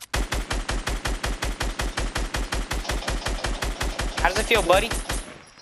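Rapid, evenly spaced video-game gunfire spammed in a steady rhythm of about two dozen loud, close shots over several seconds, with a player's voice speaking briefly near the end as the shooting stops.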